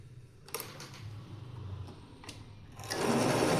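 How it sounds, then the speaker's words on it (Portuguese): A sewing machine stitches fabric for knitted-style hats, running in short, fast mechanical bursts with brief pauses and a louder, sustained run at the end. No one speaks over the stitching. "E agora eu vou juntar dessa forma e nós vamos passar uma costurinha aqui."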